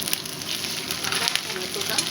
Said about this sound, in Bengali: এবার আমরা আদা বাটাটা এখানে অ্যাড করে দিলাম